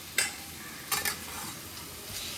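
Spiced, marinated vegetables fry and get stirred in a pan, a low steady sizzle broken by a few sharp spoon scrapes, close and fairly quiet with no voices.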